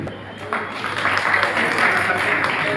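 An audience at an outdoor government mega camp on women's rights and free legal aid claps steadily in a dense, sustained wash of applause, with a voice faintly heard beneath.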